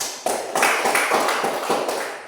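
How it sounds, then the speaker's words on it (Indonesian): Schoolchildren in an Indonesian classroom clap for a reading group, a dense, fairly close burst of applause that starts abruptly and carries on steadily before tapering. "Terima kasih, kita beri tepuk tangan dulu."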